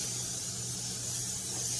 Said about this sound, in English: spray with olive oil